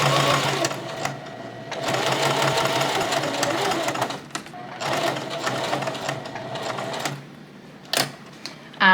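Close, loud sewing machine stitching bias tape near the edge, running in long continuous bursts with brief pauses and a few sharp clicks toward the end.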